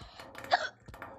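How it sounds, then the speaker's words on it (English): A person hiccups during a round of Gorilla Tag: one sharp, close hiccup followed by a second, softer one a moment later, with no talking. "Oh my god, I have the hiccups."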